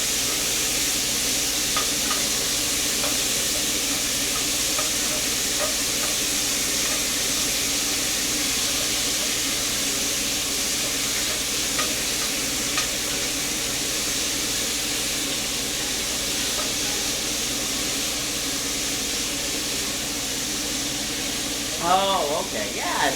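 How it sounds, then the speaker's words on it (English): Curry ingredients sizzle steadily in a pan, a constant frying hiss and crackle that continues throughout under a running kitchen fan, with some faint voices. "Turn on the fan, put it on the sizzle again."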